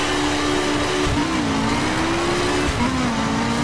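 A BMW M4 engine drones continuously while driving in The Crew video game, its pitch stepping through gear changes, loud and close throughout with no voices over it.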